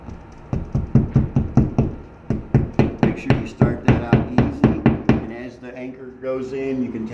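Brisk, evenly paced taps of a small hammer driving wall anchors into a wall, a steady run of close, crisp knocks, followed by a brief stretch of talk.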